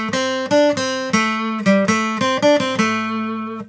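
Bright acoustic guitar chords strummed with a thin 0.5 mm pick, several crisp downstrokes ringing in a steady rhythm, close up with no voices.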